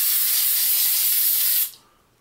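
Aerosol spray can spraying texture onto a plastic modular building model, one continuous close hiss that cuts off sharply near the end.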